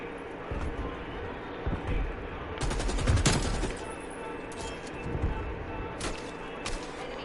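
Automatic gunfire from the video game Call of Duty Cold War, with rapid bursts that peak around the middle and again near the end over a steady background of game noise.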